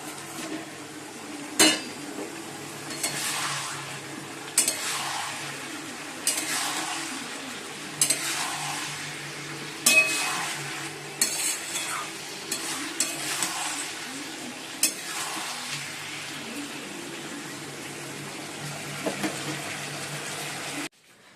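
Steady sizzling of chicken frying, with repeated scraping and stirring clatter in a pan, close by, with no talking.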